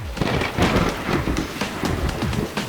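Heavy torrential rain pours in a storm, a dense, loud, steady hiss with deep rumbling underneath and no voices.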